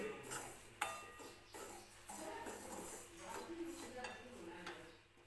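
Fine semolina being dry-roasted in a kadhai, with a utensil scraping and clinking against the pan in steady stirring strokes and occasional sharper knocks, fairly quiet and close.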